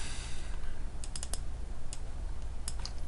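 Computer mouse clicks during CAD work: a few sharp, light clicks in quick clusters over a steady background hum, close and fairly quiet.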